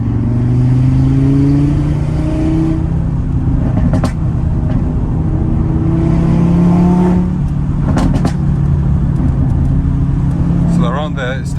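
An 8V Audi RS3 engine pulls hard under acceleration, a steady loud droning growl with rising tones heard from inside the car, broken by a few sharp pops and clicks.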